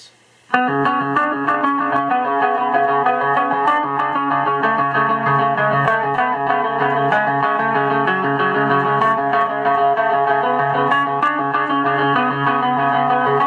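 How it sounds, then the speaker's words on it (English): An electric guitar plays an intro through delay and flanger, picked notes and little hammer-ons smeared into a steady shimmering wash of echoed ghost notes, loud and continuous after a brief pause at the start. "With the delay and the flanger, it adds kind of ghost notes in between all of the picking and the little hammer-ons"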